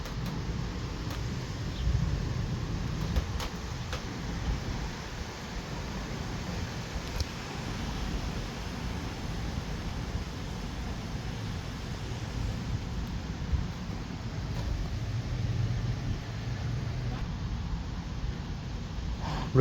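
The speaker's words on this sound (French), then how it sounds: "Le vent." Strong wind roaring steadily through a violent thunderstorm in Bordeaux, a continuous loud, low rumbling wash with gusty swells and no clear pauses.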